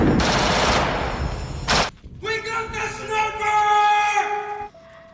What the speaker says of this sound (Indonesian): diserang dengan rentetan peluru yang sangat mematikan